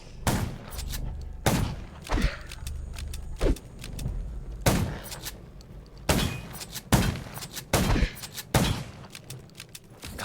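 Gunfire in the zombie survival game Undawn rings out as about nine sharp, loud shots at irregular intervals. Some come singly and some as quick doubles, and faint background noise fills the gaps.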